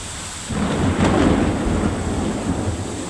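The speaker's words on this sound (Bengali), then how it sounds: "দেখতেছেন গাইস, কি বৃষ্টি আর আকাশে কি গর্জন" Heavy downpour with rumbling thunder in the early morning, a broad steady roar of rain that swells loudly after the first half second and keeps going with a low rolling growl underneath.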